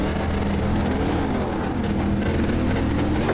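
ARCA Menards Chevy race car in iRacing at Daytona, engine roaring loudly and continuously as it accelerates, with a rising whine under the drone.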